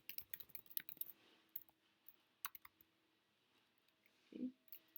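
Quiet keyboard typing and mouse clicks while editing a GeoGebra text box, a quick flurry of keystrokes at the start, then sparse isolated clicks with a short low thud near the end.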